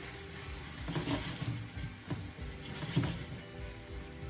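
Salt fish and okra are stirred and sautéed in a pan. A quiet, steady sizzle runs under a few soft scraping and clattering stirring strokes that arrive at irregular intervals, with no talking.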